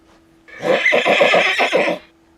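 A horse gives one loud, close whinny lasting about a second and a half, a shaky pulsing neigh that rises and then fades.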